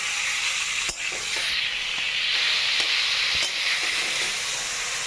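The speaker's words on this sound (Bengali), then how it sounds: "এই দেখো মাংসের কিমা ভাজা চলছে।" Minced meat fries in a pan being cooked for a chicken pizza, giving a loud, steady hissing sizzle with a few sharp crackles and utensil taps close by.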